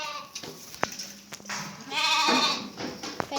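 A young lamb in a sheep pen bleats a few times, close and fairly loud, among rustling and scattered knocks.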